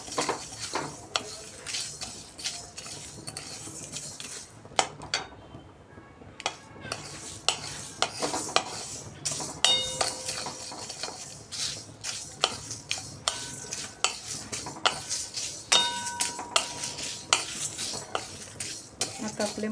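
Whole spices for kacchi dabeli masala dry-roasting in a pan, with steady metallic scraping and clinking of a spoon stirring throughout, close and fairly loud, with no voices.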